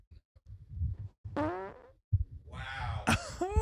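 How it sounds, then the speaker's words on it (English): A man farts directly into a podcast microphone, producing several close, loud, sputtering and rumbling bursts with pitched squeaky tails and short pauses between them. "I want to fart in this microphone right now."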